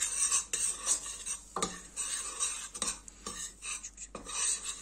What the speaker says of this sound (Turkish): Eriyen tereyağımızın içerisine 4 yemek kaşığı unumuzu ekliyoruz. Ve unumuzu kavurmaya başlıyoruz.